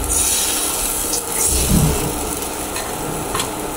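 Food sizzles steadily while frying in a pan at home, with scraping and stirring from a utensil rubbing against the pan, close and continuous with no talking.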